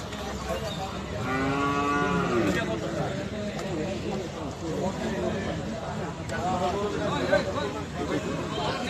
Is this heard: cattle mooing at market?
yes